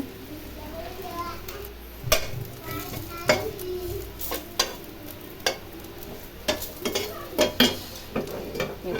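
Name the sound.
dried fish (shutki) frying and stirred in a pan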